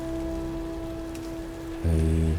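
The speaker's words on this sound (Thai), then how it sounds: "แล้วก็ฝนตก อยู่กลางคืนแบบนี้นะครับผม" Steady rain falls at night in the video game Tomb Raider, a dense hiss of drops laid under low game music, close and continuous, with the music swelling near the end.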